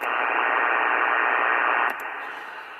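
Yaesu FT-225RD radio hisses with steady broadband static that drops noticeably quieter near the end as the noise blanker takes effect, a couple of faint clicks marking the switch.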